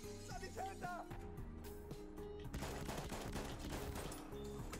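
The 12G automatic shotgun in Battlefield 1 fires a quick run of close, punchy blasts over a steady musical game backdrop.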